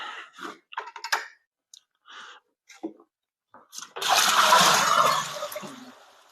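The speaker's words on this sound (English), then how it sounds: "let's start adding in the water." Water added to a rum wash of molasses and brown sugar: after a few scattered clicks and knocks, a loud, close, broadband rush of pouring water starts and continues steadily for a couple of seconds.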